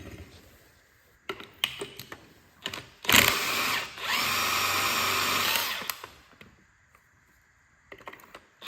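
A power tool whirs in short bursts and then a sustained spin while backing off the top nut of a Jeep SRT8 strut, with clicks and clanks around it in a quiet garage.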